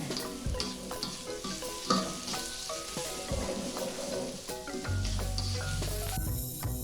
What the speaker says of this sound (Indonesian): Kita aduk-aduk sampai merata.